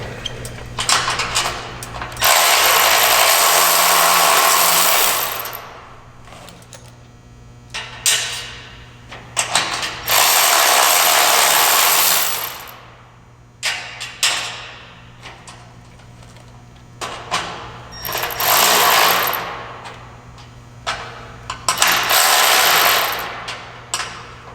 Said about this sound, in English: We're going to start by removing all the top hardware and loosening the bottoms.